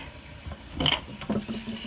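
Water surges from a pipe as a valve is turned back on after a freeze, flushing the line; bursts of splashing and hissing flow rise and fall near the microphone.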